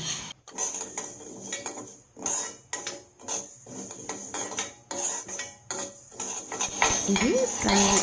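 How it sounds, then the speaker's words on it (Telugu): Spices dry roasted in a pan for bitter gourd pickle, with repeated metal spoon scrapes and clinks against the pan in irregular bursts, close and fairly loud, separated by short pauses. "మంచి అరోమా వచ్చే వరకు ఫ్రై చేసుకోవాలండి"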